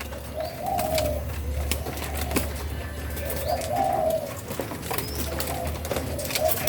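Spotted doves coo in repeated soft phrases at a moderate distance, with occasional wing flaps and chirps over a low steady background hum.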